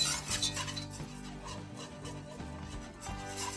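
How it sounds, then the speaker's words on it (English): A whisk beats flour into a roux in a pot, a steady scraping, rubbing rhythm of repeated strokes against the metal close by. "using a whisk, we're gonna mix that together and cook this down for about 1 minute"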